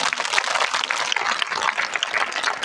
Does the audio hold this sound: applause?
yes